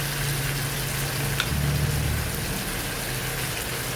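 Tomatoes fry in oil with pepper, salt and seasoning for a fish dish, giving a steady broad sizzle and a low continuous hum throughout, with a brief louder bubbling burst midway and no talking.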